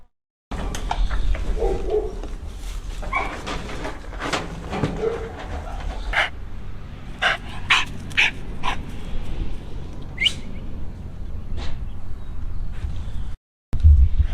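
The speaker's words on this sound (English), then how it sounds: "how'd y'all like our footage of our little cattle dog? That's Pepper, and she is our upcoming future herding dog. So she's an Australian Shepherd" A young Australian Shepherd herding dog on a cattle farm gives scattered short barks and whimpers, fairly close, in irregular bursts over background noise.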